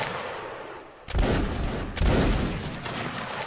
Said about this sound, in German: Schüsse nachladen, sofort schießen.